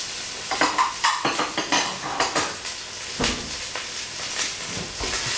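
Coarsely cut carrot, celery and onion fry in a pan for a dark beer sauce, a close sizzling hiss punctuated by a rhythmic series of spatula scrapes and clinks against the metal.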